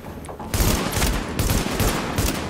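Heavy bursts of gunfire in the video game Tom Clancy's The Division, a loud, sustained fusillade of rapid shots that kicks in after a brief quieter moment and continues without pause.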